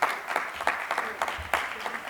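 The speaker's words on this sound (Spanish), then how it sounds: "Un aplauso también, por favor." An audience applauds award winners at a pre-university debate league ceremony, steady clapping from a moderately sized crowd in a hall, with a few sharper claps standing out.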